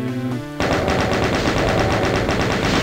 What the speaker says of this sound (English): let's grab the chain gun